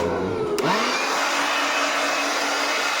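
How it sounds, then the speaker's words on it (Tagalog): A battery-powered leaf blower whirs up to speed and then holds a loud, steady high-pitched rush, running close by on its own with no talking. "Yung battery nito ilalagay muna natin sa blower para malinis natin ito."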